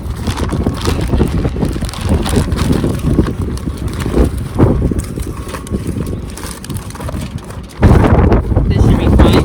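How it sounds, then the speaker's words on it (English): Strong outdoor wind buffets the microphone beside a grill, a loud, continuous rumbling roar with gusts that swell and drop, and a person talks over it. "It's so windy, everything is like flying over."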